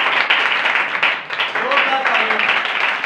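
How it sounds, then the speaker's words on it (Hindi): A church congregation in Lahore applauds loudly, dense clapping filling the room throughout while a voice speaks over it. "यीशु के जलाल के लिए जोरदार तालियां बजाएं"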